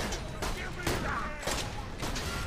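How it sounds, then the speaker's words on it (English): Heavy shotgun blasts from the video game Borderlands 2 boom out in a quick, uneven run of about five close shots, with game noise and a voice talking underneath. "Oh man, this shotgun."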